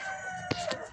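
Native black-and-white spotted chickens at a parent-stock farm give a couple of short clucks close by over a steady background hum, with no talk.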